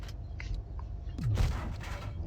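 A tank gun shot from a Chimera tank in World of Tanks Blitz, heard as a single heavy boom with a deep falling thump, preceded by faint scattered battle clicks, with no voices.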